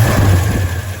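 A 1964 Dodge Dart with a swapped 5.9 Magnum V8 idles close by, a steady low rumble with a strong bass hum and a little top-end clatter, running continuously and alone.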